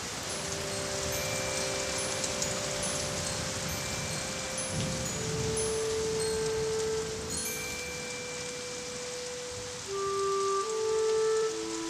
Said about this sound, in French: de gros nuages couvrirent le ciel et firent tomber la pluie